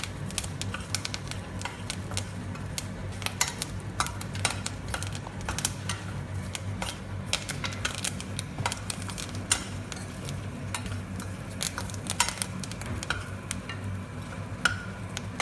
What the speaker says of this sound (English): So I have put 1 stalk of curry leaves into this mixture. So let it make this kind of a noise.